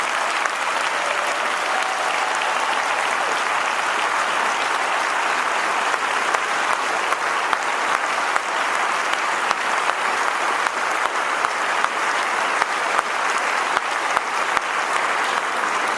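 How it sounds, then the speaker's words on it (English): A large audience at the 2012 National Urban League Conference gives a long, even round of applause, continuous crowd clapping that holds steady for about sixteen seconds. "Ryan, stand up so they can give you a round of applause"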